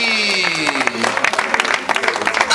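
Applause and clapping from an audience at a holiday village evening show, a busy patter of hands running throughout the short stretch, with tonal music and voices mixed in.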